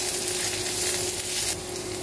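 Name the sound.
onion sautéing in olive oil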